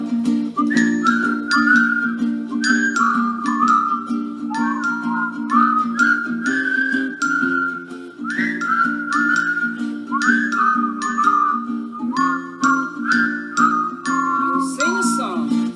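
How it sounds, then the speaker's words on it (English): A person whistles a bouncy melody of the children's song "You'll whistle a while" at a baby storytime over a steady accompaniment, the whistled tune clear and up front, phrases repeating in a regular rhythm. "You'll whistle a while, and I'll whistle a while"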